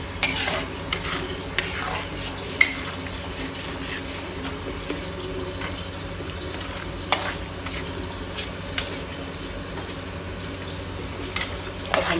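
Tomato gravy stirred and frying in a pan, a steady close sizzle with scattered scraping clicks of the spoon against the pan throughout.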